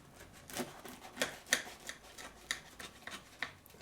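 A knife cuts a baked chicken parmi pie with a crispy potato top in half, giving a run of close, faint crunchy scrapes and crackles at an uneven rhythm.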